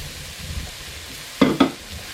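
A spoon stirs minestrone soup with green beans in a pot, giving two short, distinct scraping clatters close by over a faint cooking background, with no talking.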